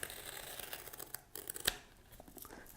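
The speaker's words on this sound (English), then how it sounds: "grab the old X-Acto knife, we're going to come inside here and just cut right along this seam on the edge papers" An X-Acto knife slices along the seam of a book's edge papers, making a close, quiet rasping cut with short scratchy strokes and one sharper snap near the end.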